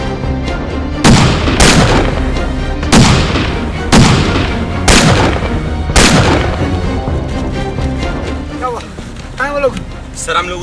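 Gunfire in an Urdu action film, about six loud, sharp booming shots spaced a second or so apart, followed by quieter shots and ricochet-like whines near the end.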